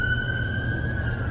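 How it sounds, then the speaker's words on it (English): An emergency vehicle siren sounds outside as a single steady, slightly drifting tone, fairly loud over a low rumble of background noise. "sorry for the siren"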